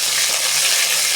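Curry leaves, green chillies and dried red chillies hit hot oil for a chicken masala, giving a brief, loud, hissing sizzle heard close up.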